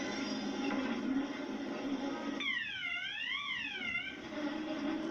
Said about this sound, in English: Was that the fire alarm or something?